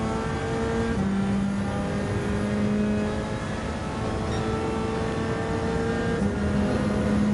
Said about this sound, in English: GT4 race car 2019.